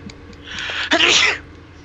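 A single loud, close sneeze bursts out at about the midpoint amid a co-op physics puzzle game session, standing alone over a low background hum.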